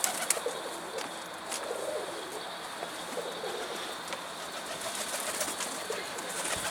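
Pigeons flying around a rooftop coop, heard as faint, distant cooing over quiet outdoor ambience, with no talking.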